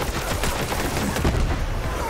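Rapid gunfire in the video game Borderlands 3, a dense burst of loud, closely spaced shots and booms that runs for the whole stretch without a break.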